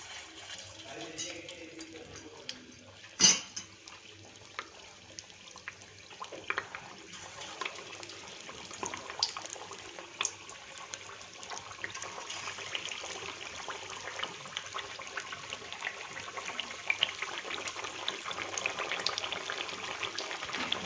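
Green pigeon pea dhekra, a traditional Gujarati fritter, fry in medium-hot oil with a faint, steady sizzle and scattered small crackles and pops that thicken toward the end.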